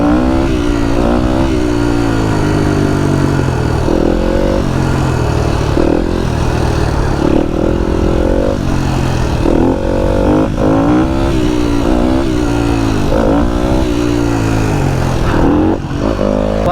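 A dirt bike engine runs loud and close the whole time, its pitch rising and falling with steady rhythmic revving and no talk over it.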